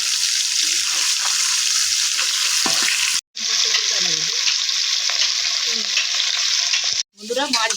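Pieces of pond silver carp fry in hot oil with a steady, loud sizzle, broken by two brief pauses and a few soft clinks of handling.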